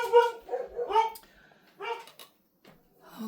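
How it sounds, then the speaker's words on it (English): Dogs barking at a home, several sharp close barks in quick bursts with a yip and whimper, then a pause and one more bark. "the dogs are after probably the mailman"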